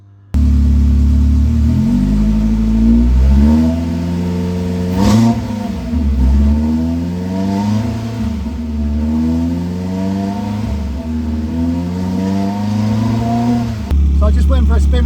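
A Ferrari engine driving around the block after a fluid bleed, loud and close, with rising and falling revs as it accelerates and shifts through the run, and a sharp change at the end.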